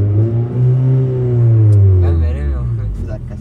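A car engine revving as the gas pedal is pressed, its pitch rising and sweeping back down in a loud, close drone while people talk over it.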